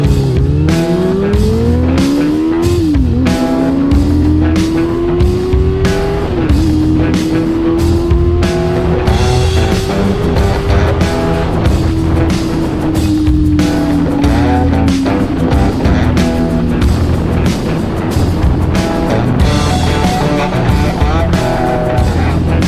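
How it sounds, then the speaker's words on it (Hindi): A Honda CB400 Super Four four-cylinder motorcycle revs hard up through first gear with VTEC engaging, its loud, close engine note climbing and dropping with gear shifts in a sustained high-pitched wail. "फर्स्ट गियर से आपको वीटेक लगा के दिखाता हूँ।"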